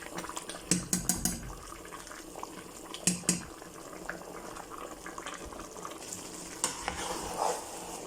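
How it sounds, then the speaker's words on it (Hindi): Rice being stirred and mixed in a pot for chicken and pea pulao, with soft scraping and stirring bursts over a bubbling, sizzling cooking bed, close and moderately quiet. "तो अभी हम इनको मिक्स कर लेते हैं अच्छी तरह।"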